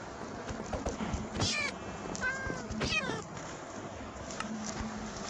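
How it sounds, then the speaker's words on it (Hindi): A Minecraft cat inside a house gives several short, clear meows, with two prominent ones near the middle, over a low game background hum. "यहाँ पर एक बिल्ली भी है हमारे घर के अंदर।"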